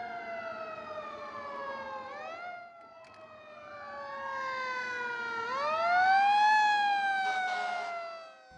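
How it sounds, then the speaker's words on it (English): An emergency vehicle siren wails near a modern roundabout, its rising and falling tones sweeping steadily and growing louder as it approaches, with faint road rumble beneath and no voices. "When emergency vehicles approach, always give them the right of way."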